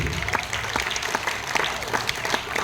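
Steady audience applause at a live comedy mimicry show, many hands clapping continuously at a moderate level, with a few sharper individual claps standing out.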